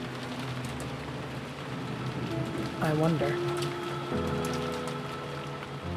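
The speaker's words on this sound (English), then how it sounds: "it certainly was a windy rain." Steady windy rain from the visual novel game Umineko no Naku Koro ni, a continuous wash of rainfall that runs the whole way under a character's voice and soft background music.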